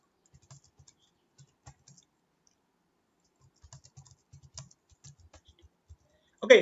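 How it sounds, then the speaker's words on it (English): Someone types on a computer keyboard while entering text into English learning software, with sparse, quiet, close key clicks in short irregular bursts separated by pauses, and a louder clatter right at the end. "you can type something here randomly"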